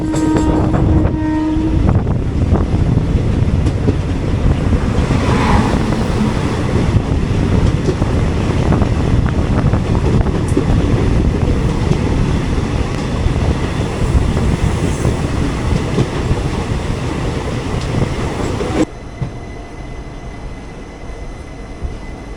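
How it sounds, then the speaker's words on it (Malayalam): A freight train rolls past close by on an Indian railway line near Kalambulli station, a loud continuous rumble and clatter of wagons with wind buffeting, cutting off abruptly near the end to a quieter hum. "ഒരു ഫ്രൈറ്റ് കടന്നേ ഉള്ളൂ, അപ്പം തന്നെ അടുത്ത ഫ്രൈറ്റ്."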